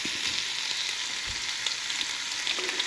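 Ham browning in a frying pan on a burner gives a steady, close, bright sizzle with faint soft pops throughout, and no one speaks.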